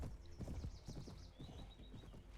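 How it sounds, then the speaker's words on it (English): Horse hooves clip-clop in a Viking video game, a quick rhythmic gallop drawing near, with a faint whinny and some chirping high above. "Here comes our horse. He's going to run into us."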